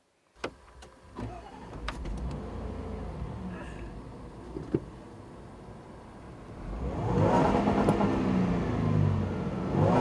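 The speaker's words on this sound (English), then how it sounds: "I like the fact that the supercharger spools up in such a gradual way" A 2014 Range Rover Sport with a supercharged engine idles off road, then builds into a rising, gradual acceleration roar toward the end, near and alone.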